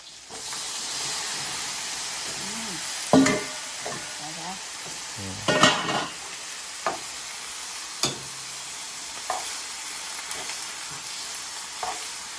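Vegetables and instant noodles stir-fried in a pan, a steady sizzling hiss broken by several sharp scraping and clanking strokes of a spatula, close and continuous with no talking.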